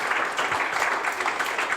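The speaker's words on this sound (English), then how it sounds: "giving all our panellists and yourselves a big round of applause" An audience applauds panellists at a solar energy panel discussion, dense steady clapping filling the room throughout, with no talk.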